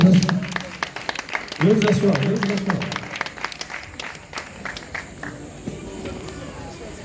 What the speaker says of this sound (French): Je ne peux terminer mon propos sans pour autant vous demander d'applaudir toutes les mamans de Kita